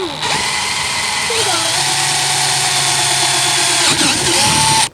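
A power drill boring through the body of a Jeep while installing an offroad hood mount: a loud, steady high-pitched motor whine held for several seconds before cutting off abruptly, with a faint background hum.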